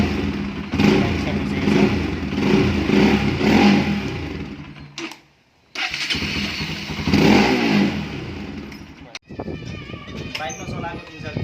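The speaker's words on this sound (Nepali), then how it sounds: "अब बाइकलाई अन गर्छौँ र सेल्फ दिन्छौँ।" A motorcycle with a freshly charged, previously dead battery is self-started and revs loudly and close, the engine note rising and settling through most of the stretch, with a short dip to near silence midway and talk over it.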